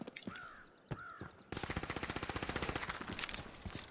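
Gunfire in H1Z1: Battle Royale: a couple of single sharp shots, then a rapid, steady automatic burst rattling for over two seconds, fairly faint and distant-sounding.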